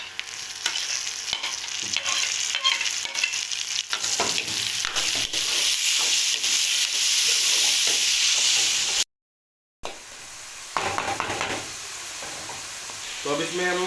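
Tomatoes and green chillies frying with onion and ginger-garlic paste for matar gosht, a loud continuous sizzle with stirring clatter, cut by a brief silent gap then resuming slightly quieter.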